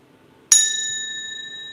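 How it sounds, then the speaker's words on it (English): A single chime strike rings out clearly after a brief quiet, leaving a bright metallic tone that sustains and slowly fades. "I also have my chimes with me today."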